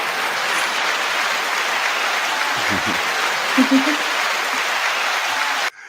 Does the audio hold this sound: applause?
yes